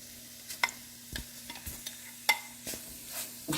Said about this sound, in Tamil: போட்டு நல்லா பரட்டி விட்டுருங்க.